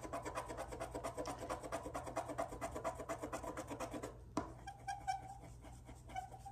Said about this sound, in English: Make sure you're working quickly and that you rub nice and hard on there to get it to transfer.